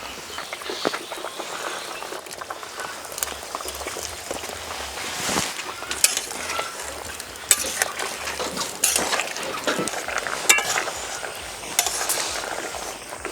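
Tomatoes being stirred into a simmering fish curry in a pan, a steady bubbling sizzle with scraping spoon strokes and occasional clinks, fairly close and continuous throughout.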